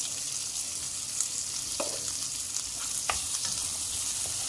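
Onions sauté in a pan over a medium flame with a constant close sizzle, broken by a few short scrapes and clinks of a stirring utensil. No one speaks.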